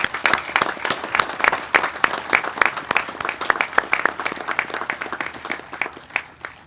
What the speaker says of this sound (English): I want you to give him applause for that.